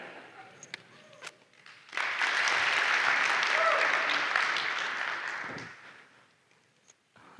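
An audience at a tech conference talk bursts into applause after a quiet moment, a full, steady wash of clapping lasting several seconds before tapering off, with some voices around it.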